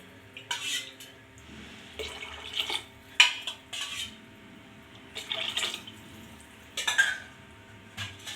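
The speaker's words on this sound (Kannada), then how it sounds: "ಇದಕ್ಕೆ ನೀರು ಹಾಕ್ಕೊತಾ ಇದ್ದೀನಿ." Water is poured into a pot of sprouts (chana) gravy in a home kitchen, heard as several short, moderately quiet splashing bursts separated by pauses, with light clinks of metal cookware.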